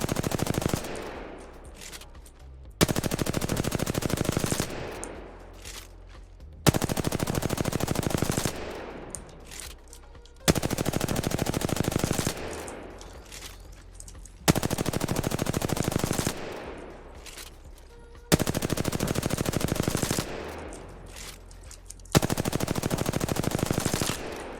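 Repeated bursts of rapid gunfire in Apex Legends from two scoped guns fired in turn, each loud volley lasting a few seconds and separated by quieter gaps, with no talking.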